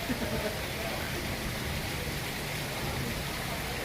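Steady, dense rain hisses continuously at an even level, a broad wash of falling water with no pauses or voices.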